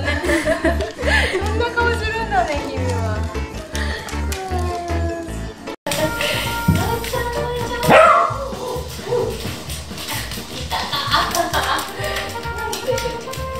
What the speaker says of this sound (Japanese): 吠えないでよ